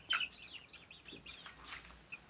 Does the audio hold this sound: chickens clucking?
yes